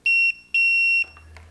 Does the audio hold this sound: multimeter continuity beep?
yes